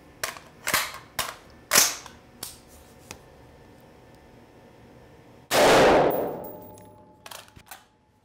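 A rifle fires a Hornady 55 grain spire point bullet into a ballistic gel block in one loud, sharp blast with a ringing decay, preceded by several light mechanical clicks and clatters.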